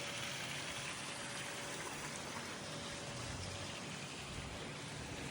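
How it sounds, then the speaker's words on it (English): A small water feature flowing at a home's pool, heard as a constant, even gushing hiss of falling water with no breaks, quiet and steady throughout. "You have the little water feature coming off."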